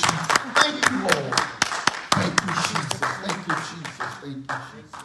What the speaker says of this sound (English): Can we give the Lord a hand clap of praise?